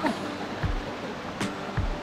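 Strong current of a shallow, rocky river at a campsite, a steady broadband rush of flowing water with a few low thumps of splashes or movement close by.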